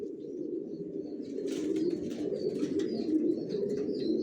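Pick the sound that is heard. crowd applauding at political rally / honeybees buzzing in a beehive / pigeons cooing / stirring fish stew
pigeons cooing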